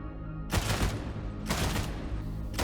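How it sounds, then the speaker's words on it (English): Three-shot burst gunfire in a Warhammer 40K video game, two sharp, loud bursts about a second apart, each a quick cluster of rounds with a short ringing tail, no voices. "Three-shot burst has good damage with impressive aimed zoom."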